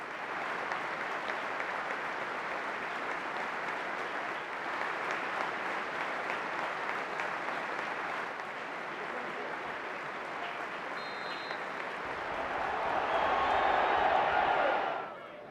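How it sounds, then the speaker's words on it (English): A stadium crowd at a Bristol City v Norwich City football match holds a minute's applause before kick-off in memory of former England manager Terry Venables, a steady, dense wash of clapping that swells louder near the end. "Ahead of kick-off, we'll have a minute's applause to remember the former England boss, Terry Venables."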